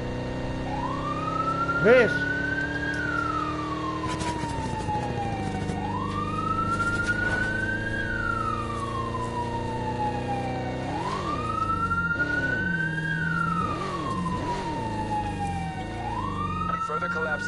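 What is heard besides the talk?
police siren in a video game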